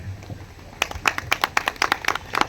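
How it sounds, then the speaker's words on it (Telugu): A crowd at a meeting breaks into applause, a flurry of crisp hand claps starting after a short pause and continuing steadily, fairly close and lively. "మీటింగ్లో చప్పట్లు చాలా ఇంపార్టెంట్"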